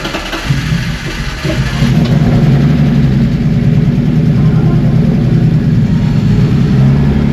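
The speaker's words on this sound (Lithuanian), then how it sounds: "Tiesiog bandau kurti ir lėkti." A BMW E36 engine cranks and catches, then settles into a steady, loud running drone with a low rumble that holds to the end.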